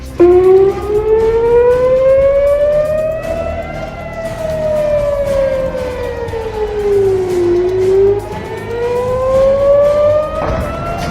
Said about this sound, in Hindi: पूरे इजराइल में चेतावनी के सायरन बज उठे